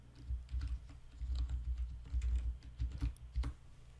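Password being typed on a computer keyboard at an Ubuntu login screen: a steady run of soft, close key clicks with uneven rhythm over about four seconds, no voices.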